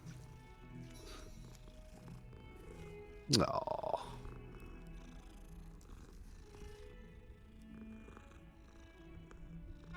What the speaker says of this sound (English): There's usually a cat around here to stroke.